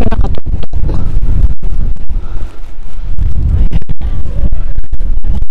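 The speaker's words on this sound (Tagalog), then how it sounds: "Ang hangin." Strong wind buffets the microphone in loud, rough gusts with crackling bursts, continuous and overwhelming throughout, at the top of Hampstead Heath park.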